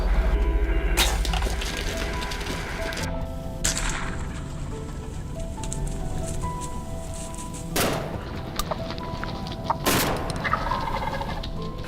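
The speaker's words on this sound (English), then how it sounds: "male turkeys often make loud noises to attract female turkeys" A male wild turkey gobbles outdoors, loud rattling calls breaking out several times over a low background, with a few sharp cracks mixed in.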